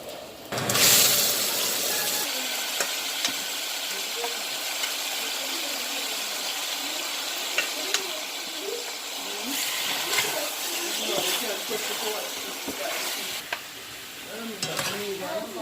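Chicken sizzles loudly in caramelized burnt sugar for Jamaican stew chicken, a steady close frying hiss with scraping stir strokes throughout.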